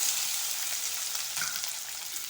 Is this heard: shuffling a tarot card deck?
no